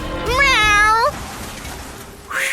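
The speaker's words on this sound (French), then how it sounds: "Miaou!" A cat gives one long, loud, close meow lasting about a second, followed by quiet room noise and the start of a second cry at the very end.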